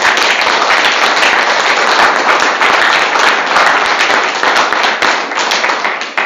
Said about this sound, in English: So, round of applause for our presenters